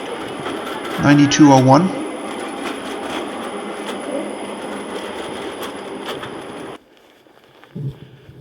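Skoda 15T tram running through Prague, a loud rolling hum with a brief squeal of wheels early on, then cutting off to near quiet; a voice speaks briefly.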